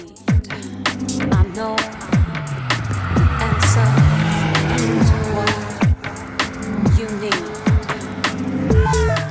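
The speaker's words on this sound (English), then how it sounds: "Another radical SR3 RS, this was with the other guys and was not hanging around either" Radical SR3 RS race cars scream around the Brands Hatch GP circuit on an open track day, high-revving engines sweeping up and down through gear changes as cars pass close, with sharp, loud bursts and tire noise.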